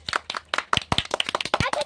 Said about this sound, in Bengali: হাততালি হাততালি দাও সবাই